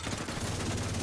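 A turret in the video game The Division 2 fires a quick rattling automatic burst, steady and moderately loud, with no voices over it.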